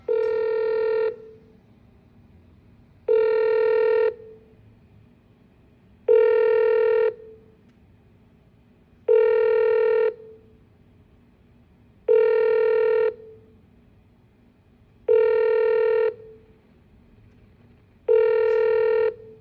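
A telephone call placed to a redevelopment association office, with a repeating ringback tone: seven evenly spaced, clear rings about three seconds apart over a low background hum, no voices.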